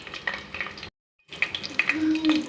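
Whole spices for vegetable biryani crackle and sizzle in hot oil, with busy popping and frying noise close by, broken by a short silent gap before the sputtering resumes.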